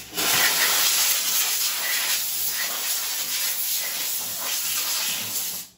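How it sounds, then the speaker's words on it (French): A Vapodil steam cleaner blasts steam onto bathtub taps, a loud, steady, close hiss that runs without a break for several seconds and then cuts off. "Je vais également envoyer la vapeur dans le mousseur"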